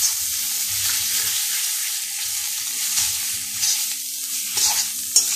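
Cabbage being stirred and fried in a little oil in a pan, a steady close sizzle with scraping stirring strokes repeating throughout and no voices.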